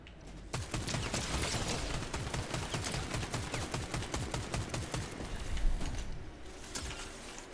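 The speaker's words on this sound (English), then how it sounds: "I'm being shot at by someone else." Rapid gunfire in Fortnite rattles out in fast, dense bursts of sharp cracks that continue for several seconds, close and loud, with brief pauses near the end.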